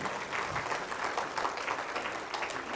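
A church audience at a Malayalam worship service claps hands in praise, a steady, moderately loud patter of many hands with a slightly rhythmic pulse, heard without speech over it.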